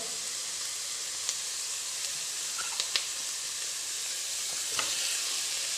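Onions fry in a pan as capsicum is added, producing a faint, steady sizzle with a few light clicks and utensil scrapes.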